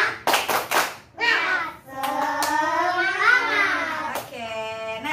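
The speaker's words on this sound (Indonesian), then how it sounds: "kita tepuk semangat ya" Classroom pupils doing a rhythmic group clap chant during a science lesson, a few sharp loud claps in a quick pattern followed by children's voices chanting together, with further claps later.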